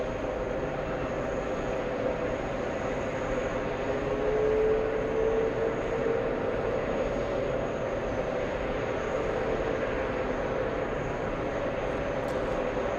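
Jet airliner taking off at JFK airport, a steady, loud engine roar that holds evenly throughout with a slight swell partway, heard from a moderate distance with no talking.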